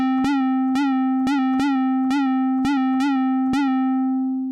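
Dirty 808 bass built in the Helm synthesizer, eight punchy tonal hits with sharp clicky attacks over a sustained buzzy low drone, rhythmic and loud, fading slightly at the end.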